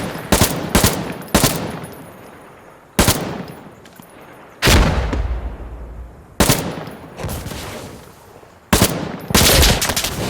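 Light machine gun fire in Insurgency: Sandstorm, loud close bursts of automatic shots recurring across the clip, with short gaps and echoing tails between them.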